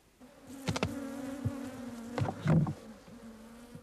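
Bees buzzing at a government beekeeping centre in Arusha, Tanzania, a steady droning hum with louder swells as individual insects pass close, no speech.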